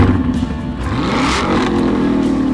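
Car engine in a radio ad for exhaust repair, revving up with a loud, raspy exhaust note that climbs in pitch and then holds a steady roar, close and alone.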